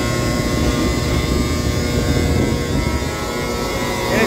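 Blower on a horizontal cement silo for unloading cement into a spreader truck, a loud, steady, broadband roar and drone holding constant throughout.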